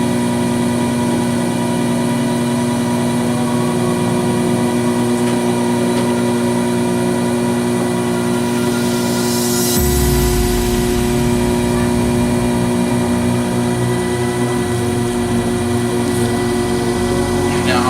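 An electric pottery wheel turns at slow speed while a seven-pound clay vase is thrown, giving a continuous motor hum with a steady tone that deepens slightly about halfway through.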